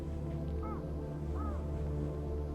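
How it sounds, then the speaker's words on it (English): Two short crow caws ring out about a second apart over a steady low background hum, faint and somewhat distant. "Are you hearing birds?"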